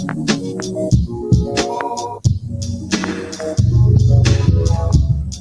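Music processed with a reverb effect, dense tonal layers smeared into a washy tail, steady and fairly loud throughout with a fuller low end in the final seconds.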